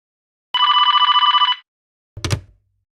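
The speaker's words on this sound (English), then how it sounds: "Ringing Murray Hill" An old-style telephone bell rings once for about a second, a rapid metallic trill, then goes quiet. A short clunk follows, like a receiver being lifted, in a radio drama set in a quiet house.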